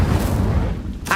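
A spell being cast in Hogwarts Legacy, a deep rumbling magical burst that rolls on steadily before a brighter crackling flare near the end.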